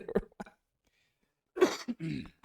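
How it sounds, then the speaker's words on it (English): A person clears their throat in a couple of short, rough bursts separated by a pause of silence. "Sorry, I had to clear my throat on that one."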